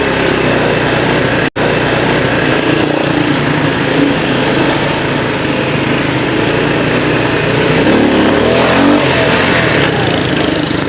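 Motorcycle cruising through traffic, recorded from the rider's position: a steady engine drone with wind rush, loud and continuous throughout.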